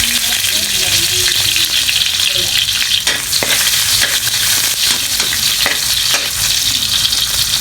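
Garlic sautéing in a pan for ginisang chicken fillet with vegetables, a steady loud sizzle with occasional scraping stirs, no talk.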